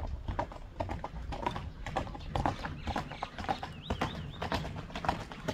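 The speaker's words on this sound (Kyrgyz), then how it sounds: "Самат атты токтотпой чапчу болуп калыптыр, а?" Horse hooves clip-clopping at a quick, galloping pace, a steady drumming of near footfalls with some background noise and faint voices mixed in.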